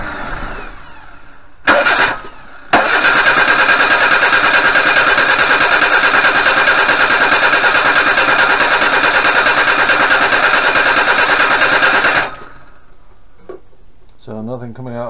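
A Suzuki Vitara Wide Boy with a fuel pump problem is cranked over for about ten seconds, its starter grinding loudly and evenly without catching, after a brief earlier burst of cranking.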